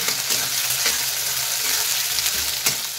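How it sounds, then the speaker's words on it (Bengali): Onions frying in mustard oil with a black cardamom pod and star anise, a loud continuous close sizzle with occasional stirring scrapes, no voices. "পেঁয়াজগুলো ভেজে নেবো একটু।"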